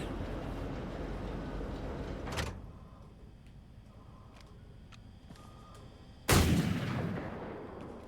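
Two heavy, booming super cannon shots in Wolfenstein II: The New Colossus ring out several seconds apart, each with a rumbling tail, over low mechanical background hum and no talking.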